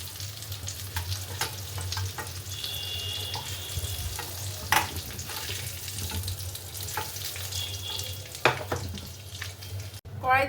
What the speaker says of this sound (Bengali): হলুদ গুঁড়ো, নুন আর একটু শুকনো লঙ্কা গুঁড়ো দিয়ে এখানে দেখো ভালো করে ভেজে নিচ্ছি